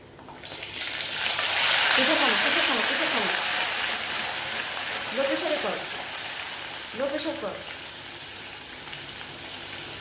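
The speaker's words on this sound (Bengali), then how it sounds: "এই যে তেলে চিকেনে যে জলটা বেরোচ্ছে সেটা রিমুভ হয়ে গেছে প্রায়, ওই জন্য ছিটকাচ্ছে" Chicken pieces frying in hot oil, spattering and crackling steadily with a broad sizzle, while a voice speaks over it in a few short bursts.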